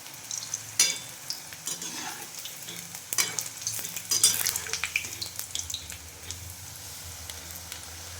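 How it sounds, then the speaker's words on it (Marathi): Dal batti dough balls fry in very hot oil in a pan, a continuous bubbling sizzle with scattered crackles and occasional utensil clinks and scrapes, close and moderately loud, without talk. "तेल खूप तापलेलं आहे, ते मीडियम याच्यावरतीच तळायचं त्याला."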